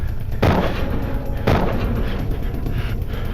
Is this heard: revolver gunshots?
yes